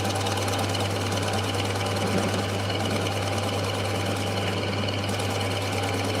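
A power saw cuts through seasoned chestnut wood, moving from sapwood into heartwood, with a steady, loud motor drone and grinding that stays constant throughout.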